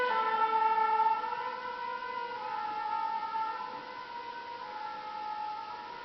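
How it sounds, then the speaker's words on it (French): Several emergency vehicle sirens wail in the street, steady overlapping tones that rise and fall, fairly loud and continuous with no talk. "comme vous pouvez entendre, il y a plein de sirènes"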